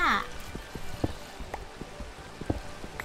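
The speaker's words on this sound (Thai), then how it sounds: "ลำบากแย่เลยฝนตกไปทั่วฟ้าเนี่ย" Rain falls in the Minecraft video game as a steady hiss with scattered drip-like ticks throughout, moderately loud and continuous, with a brief other game sound at the start.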